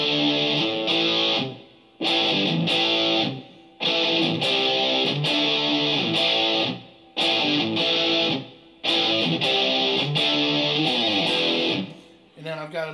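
Distorted electric guitar through a Headrush MX5 effects pedal, loud chord bursts struck in a repeating rhythm with short gaps between them.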